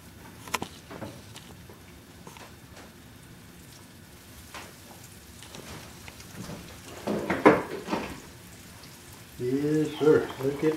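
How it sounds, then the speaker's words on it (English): Turkey frying in hot grease on a gas stove, a soft steady crackling hiss with a swell of bubbling late on, heard close and fairly quiet, with brief voices and handling noises over it. "Look at that sizzle."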